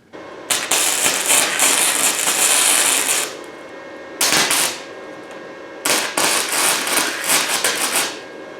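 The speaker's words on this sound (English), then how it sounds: "I'm going to go ahead weld this up" Tack welding a mini bike axle mount in three loud crackling, sizzling bursts of about three, one and two seconds, separated by brief quiet gaps.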